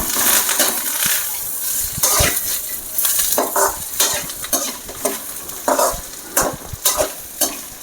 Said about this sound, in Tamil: இப்போ நம்ம இந்த மல்லி இலை அதையும் நம்ம அதில் போட்டு நல்லா வதக்கிக்கலாம்.